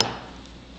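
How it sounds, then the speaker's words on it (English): A single sharp hammer strike on a metal rivet head, close and clear, followed by a short metallic ring that fades quickly. "I'm going to take that and I'm going to do some hammering"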